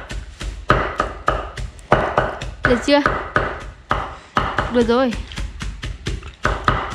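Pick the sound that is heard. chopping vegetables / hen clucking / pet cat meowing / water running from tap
chopping vegetables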